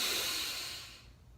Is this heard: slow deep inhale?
yes